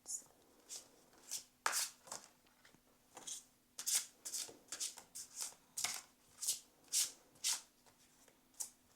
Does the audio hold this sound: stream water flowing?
no